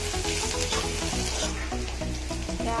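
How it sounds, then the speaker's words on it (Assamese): Spices sizzle and fry in a hot pan for a spinach and fish curry, a dense continuous crackle with a steady low rhythmic pattern running throughout, close and fairly loud, no voices. "এতিয়া মই ইয়াত মছলাখিনি দিম।"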